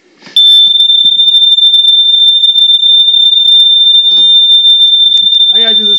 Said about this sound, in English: the smoke alarms will be just normal smoke alarm test